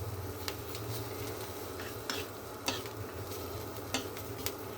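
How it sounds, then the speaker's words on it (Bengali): Onion, garlic and green chili fry lightly in a pan for mustard paste, a steady soft sizzle with scattered sharp scrapes and taps of a spatula stirring against the pan, close and moderately quiet with no talking. "তো তার জন্য পেঁয়াজ, রসুন আর কাঁচা ঝাল একটু হালকা ভেজে নিচ্ছি"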